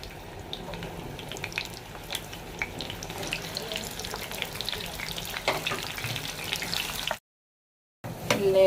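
Onions frying in a pan give a steady, close sizzle with scattered crackles and faint stirring. The sound cuts out into brief silence near the end, then the sizzle returns louder. No speech is heard.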